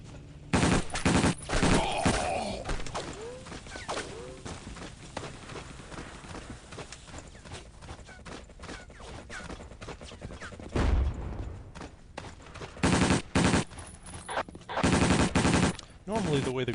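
Gunfire and grenade blasts in the video game Battlefield 1942 as infantry fight over a bridge, bursts of automatic fire and sharp shots in clusters with a heavy explosion midway, pauses between volleys.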